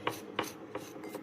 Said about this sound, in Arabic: هقلب بس كويس، تغطي كده بالمعلقة بظهر المعلقة بالشكل ده كده